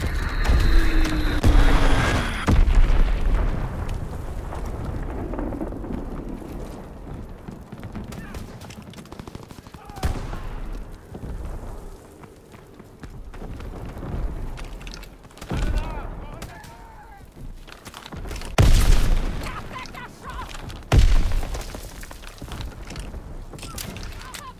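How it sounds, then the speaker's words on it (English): Bombs burst in a Call of Duty: WWII team deathmatch on Pointe du Hoc. Heavy, scattered blasts and gunfire rumble in bursts amid battle noise, with a game voice speaking at times. "Enemy bomb incoming. Get to cover."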